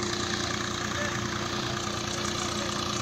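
A tractor engine runs steadily while hauling bricks at a village brick-making site, a continuous mid-to-low rumble with a slight knocking idle texture, close and constant throughout with no talk.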